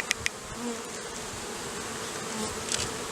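A dense, steady buzzing of many honey bees fills the air close by, with a couple of faint clicks near the start, during varroa mite monitoring at a hive.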